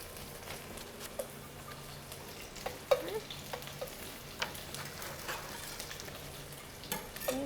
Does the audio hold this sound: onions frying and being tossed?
yes